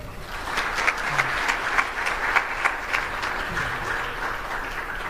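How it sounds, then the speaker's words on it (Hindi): An audience at a Ram Katha religious discourse gives feeble, moderately quiet applause, a continuous patter of many hands with a few louder individual claps standing out. "तालियां बड़ी कमजोर है"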